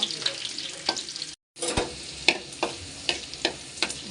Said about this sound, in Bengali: রসুনটা ভেজে নেব।